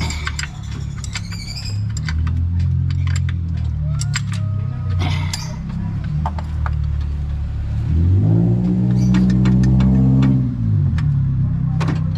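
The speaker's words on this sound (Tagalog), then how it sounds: "Nasalpak na yung makina nito eh." An Isuzu engine turns over after a stretch of quiet clinks and rattles, then catches and settles into a steady, close, low running idle.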